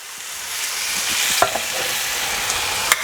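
Stock poured into a pan of browned lamb shanks for a curry sets off a loud, steady sizzle and hiss, with a few clinks and stirring scrapes close by and no talking.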